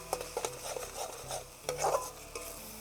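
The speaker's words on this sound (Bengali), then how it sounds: "এবার এটাকে সুন্দর করে আমাকে কষিয়ে নিতে হবে।" Spice paste for a chitol fish curry is stirred and fried in a pan, with a spoon scraping and knocking in irregular strokes over a soft sizzle. The strokes are close and moderately loud, with no voices.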